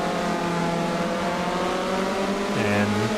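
A Spec Miata race car engine hums steadily at a race restart, a loud continuous drone with layered engine tones and a brief pitch change near the end as revs shift.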